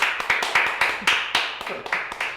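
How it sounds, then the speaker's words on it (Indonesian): A small audience claps for a speaker at a community kitchen event in Denpasar, sparse separate handclaps in an uneven rhythm, close and fairly loud. "Tepuk tangan dulu untuk narasumber kita kan."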